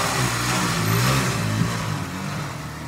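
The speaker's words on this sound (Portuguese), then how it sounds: "Eu odeio moto barulhenta, gente." A loud motorcycle engine roars steadily past for about three seconds, close and unbroken, with no talking over it.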